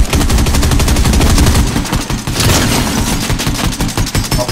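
Rapid gunfire in the Fortnite video game, loud continuous bursts of automatic shots in quick rhythm with a brief pause midway.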